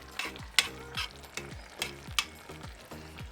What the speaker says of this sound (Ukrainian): Зараз я буду додавати гриби.